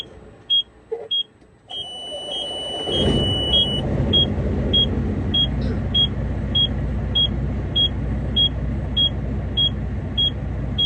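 A truck engine cranks and catches about two seconds in, then settles into a loud, steady rumble heard through a fully open window, while a repeating electronic beep chimes throughout.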